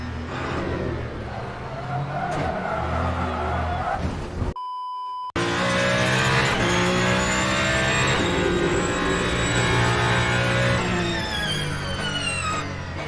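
Race car in the Le Mans Ultimate racing game exits the pits, its engine loud and close as it revs and accelerates, with rising gear-change whines and a short beep midway during a brief dropout.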